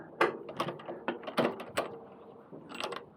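A wrench torques the rear axle of a KTM Duke motorcycle, giving a series of quiet clicking ratchet strokes in irregular bursts, close by with no talk.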